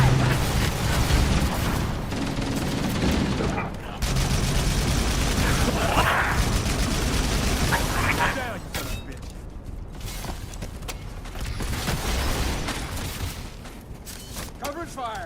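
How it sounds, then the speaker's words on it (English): Loud gunfire and booming combat from the Halo Campaign Evolved game, dense bursts for the first eight seconds, then thinner fire, running under a player's voice throughout. "They're shooting at me."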